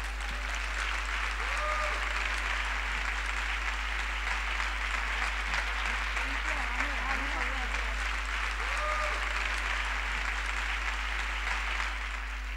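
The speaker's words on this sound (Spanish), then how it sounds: "Un aplauso fuerte," A hall audience at a public libraries congress award presentation keeps up a sustained, even round of applause, heard at a moderate level with a low steady hum underneath and brief voices now and then.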